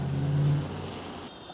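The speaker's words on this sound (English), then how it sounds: "I am now amongst aggressive vehicles." A car engine rumbles loudly up close as vehicles pass by in downtown traffic, the droning roar fading after about a second into quieter road noise.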